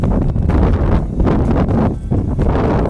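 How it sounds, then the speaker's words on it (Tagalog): Strong wind gusts buffet the microphone with a roaring, rushing noise that swells and dips over a few seconds, close and loud. "Maririnig nyo naman dito yung weather ba, mahangin."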